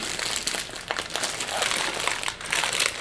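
A plastic bag of gummy bears crinkled and torn open up close, dense crackly rustling that continues steadily for a few seconds without speech.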